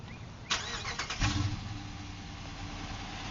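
A 2015 Dodge Charger R/T, stock apart from a K&N cold air intake, is remote started close by: a sharp starter catch and flare, then a steady, low idle rumble that carries on alone.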